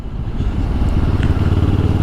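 Benelli TRK 702 X touring motorcycle engine under way, a loud, steady low rumble with throbbing pulses and wind rush, continuous and close, with no voices.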